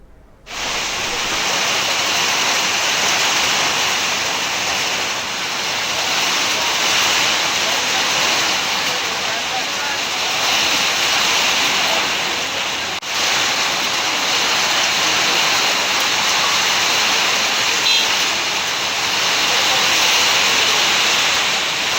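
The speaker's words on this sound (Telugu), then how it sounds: "కొండాపూర్, పెద్దగురి, జూబ్లీహిల్స్ పరిసర ప్రాంతాల్లో వాన పడింది." Steady, loud rainfall around Kondapur, Peddagudi and Jubilee Hills in Hyderabad, a dense continuous hiss that hardly changes, with one brief dip partway through.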